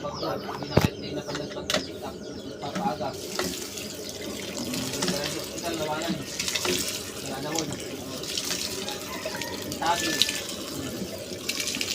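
Water running steadily into a pot before freshly harvested sweet potatoes are boiled outdoors, a continuous splashing fill heard close, with occasional clanks and voices in the background.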